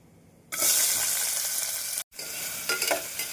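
Onions hit hot oil with fried cinnamon and fennel with a sudden loud sizzle that keeps crackling steadily, briefly interrupted, then continues frying close by.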